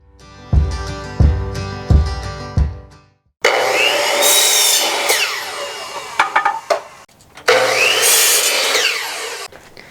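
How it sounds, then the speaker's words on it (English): A few plucked tones open, then a power drill with a paddle bit bores into a wooden subfloor in a Ford Econoline van in two long grinding bursts separated by a brief pause, close and loud. "he'll use that paddle bit to drill it out"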